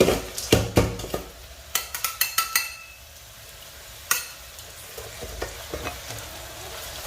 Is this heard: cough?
no